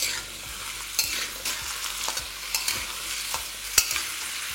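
Cut potatoes fry with cumin in a pan over medium flame, a steady high sizzle broken by irregular scraping clicks of a spoon stirring them, close and fairly quiet with no voices.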